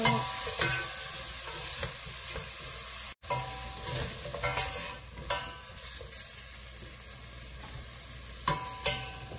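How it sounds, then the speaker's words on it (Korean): Beef soup base with sliced radish and fine chili powder being stir-fried in a pot for Korean beef soup: a steady, loud sizzle with scraping stir strokes and a brief pause, close up, with no talking. "그리고 고운 고춧가루 한 스푼 넣어주세요. 볶아주세요."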